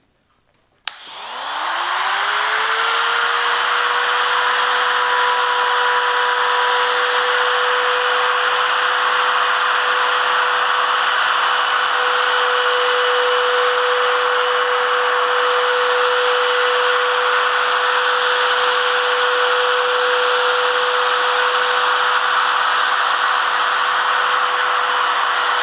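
A power tool, likely a router or trimmer, spins up and runs steadily while trimming edge banding flush on plywood for a bedroom storage bench. It is a loud, continuous whine with a rising start that holds for the whole span, with no talking.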